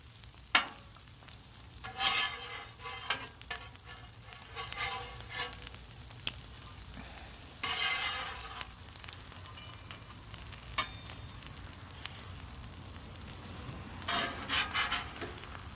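Steady sizzling of buns on a Blackstone griddle with the lid nearby, with scattered louder scrapes and clatters of a spatula flipping and setting them down, close and continuous.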